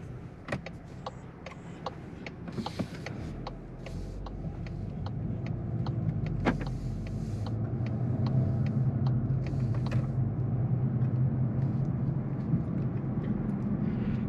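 A 2023 Volkswagen Golf GTI hot hatchback releases its parking brake with a few clicks, then pulls away with a low engine rumble that builds steadily, heard from inside the cabin.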